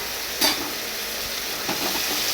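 Vegetables cut into long strips stirred and fried in a kadai with tempered chira, a steady soft sizzle with a few light scraping stirs, fairly quiet and without voices.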